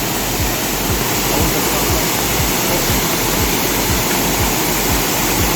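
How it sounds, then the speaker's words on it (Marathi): A rain-swollen waterfall in the Sahyadri hills near Kudshet village, Shahapur, pours down forcefully, a loud, unbroken roar of crashing water that fills the whole scene without pause. "आता नुकताच पाऊस पडून गेला आहे त्यामुळे पाणी जरा जोराने कोसळत आहे"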